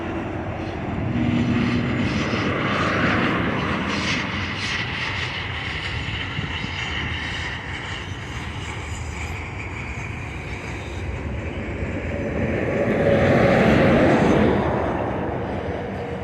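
A train coasts past in Tehachapi, California, a sustained loud rumble and rolling wheel noise that swells toward the end as cars roll by close.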